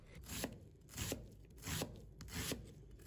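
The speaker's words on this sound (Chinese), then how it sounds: "再准备半个洋葱，把它切成丝， 再切成小碎丁" A knife dicing half an onion, already cut into strips, into small cubes for egg fried rice: four evenly spaced, crisp chopping strokes against a board, close and clear.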